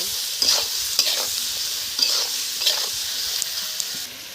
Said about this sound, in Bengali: এখন আমি এর মধ্যে মাংসটা তুলে দেব।